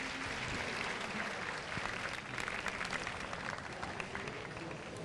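An audience at a Singapore gaming show event applauds in a continuous wash of clapping hands, sustained and even for several seconds at a moderate, somewhat distant level.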